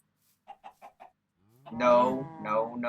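Four quick clucks from a Minecraft chicken, followed by a louder, drawn-out squawking cackle.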